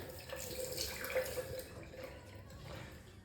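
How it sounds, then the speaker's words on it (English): Hot water runs steadily from a tap to wet a razor blade during a straight-razor shave, a soft continuous splashing stream at moderate distance with no talking. "I like wetting the blade under hot water or warming it under hot water"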